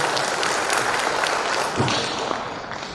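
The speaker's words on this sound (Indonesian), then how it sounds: "Kita berikan aplaus tepuk tangan untuk Partai Nasional." Audience at a NasDem party event in Blitar applauding, a dense, even spatter of hand claps sustained at moderate level.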